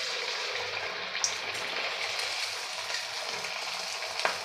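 Sabudana potato puri sizzles and bubbles steadily in hot oil, a dense, even frying hiss with a couple of faint clinks, no talking.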